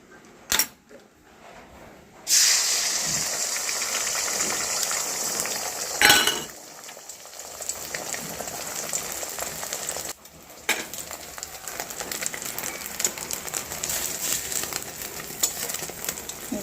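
Beaten egg hits hot oil in a kadai and bursts into a loud, sustained sizzle after a quiet start. Occasional utensil clinks and scrapes break in, and the frying fades and returns near the end.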